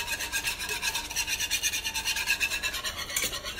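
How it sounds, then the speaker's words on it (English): Flour being whisked into pork chop pan juices to make a beer gravy, heard as a quiet, rapid rhythmic scraping of the whisk against the pan, repeating steadily throughout. "We are whisking this until it's smooth."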